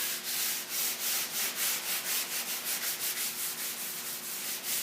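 Scrubbing the patina on a 1954 Studebaker's car body with a wet Scotch-Brite pad, a close, rhythmic back-and-forth rasping of fast, even strokes with no voices.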